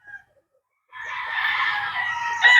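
Imported Bruce Barnett Sweater gamecock rooster named Spartacus crowing once, loud and close, a sustained call after a brief short sound and silence.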